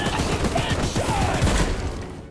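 Rapid gunfire in the video game Choo-Choo Charles, a dense burst of quick repeated shots over a rumbling backdrop, loud and close, tapering off at the end.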